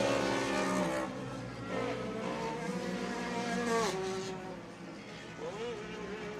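Polaris and Can-Am side-by-side UTVs race on a dirt SXS course, engines droning and revving loudly and continuously with shifting pitch as they pass, under an announcer's commentary.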